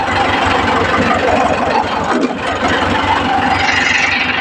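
A tractor engine runs loud and close at a steady idle, a dense knocking diesel rumble with constant vibration that holds throughout, without talk.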